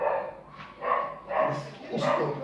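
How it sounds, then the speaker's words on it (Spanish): A dog barks in several short, evenly spaced bursts during a sermon, at moderate loudness and not far off, over a faint steady background. "Justo que predico que el perro ladra."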